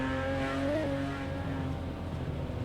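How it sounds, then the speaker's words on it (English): A Peugeot race car engine revs hard and steadily during a race at Grobnik, a high, buzzing whine that swells briefly and holds, loud and close with no voices. "Peugeot is probably one of the best sounding of the cars."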